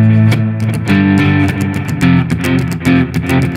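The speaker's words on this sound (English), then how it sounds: "make it sound more rock by reducing your major and minor chords to power chords" A distorted electric guitar bangs out rapid rock power chords up close, with choppy palm-muted strums and quick chord changes, loud and alone.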